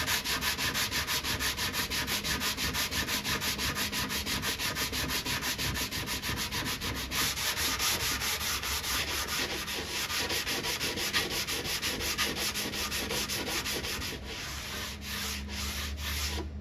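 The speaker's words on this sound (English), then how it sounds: "now I'm gonna take my block sander, sand this bottom edge like we did on the other side" A block sander works along the bottom edge of a wooden Bubbles arcade cabinet, giving a steady, close scratchy rasp of continuous back-and-forth strokes with no voices.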